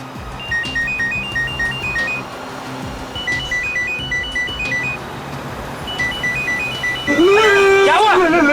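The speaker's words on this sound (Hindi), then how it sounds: "फोन की घंटी बज रही है, आप उठाओ ना फोन" A telephone rings from a storage compartment in repeated electronic bursts of warbling tones, each cycle followed by a short pause. Steady background rumble continues underneath, and a louder swooping tone enters at the end.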